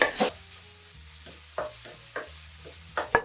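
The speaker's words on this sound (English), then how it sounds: "Once it's hot, add 1/4 of an onion, 1 to 2 garlic cloves, and about 1 teaspoon of ginger, all finely diced." Finely diced onion, garlic and ginger sizzle softly in hot oil, with a few sharp utensil scrapes and taps against the pan over the quiet frying hiss.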